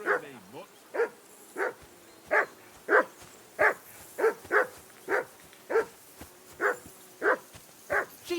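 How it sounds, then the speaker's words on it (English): A dog in the video game Kingdom Come: Deliverance II barks repeatedly in a steady rhythm, around a dozen sharp, evenly spaced woofs at moderate loudness and close by. "that barking's driving me nuts."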